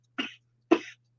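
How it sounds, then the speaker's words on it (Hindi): Two separate, sharp coughs come close to the microphone, roughly half a second apart, each a short burst that trails off, with near silence around them. "खांस रहे हैं"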